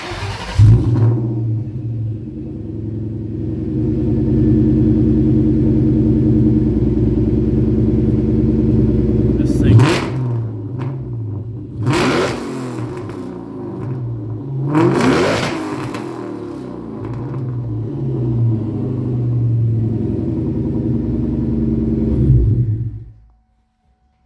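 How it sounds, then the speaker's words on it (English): A 2003–04 Mustang Cobra V8 with Bassani X-pipe and Borla Stinger exhaust idles with a deep, throaty rumble, then revs sharply three times through the loud exhaust before cutting off; a brief voice is heard. "Hurting feelings with the Borla exhaust, Borla stingers."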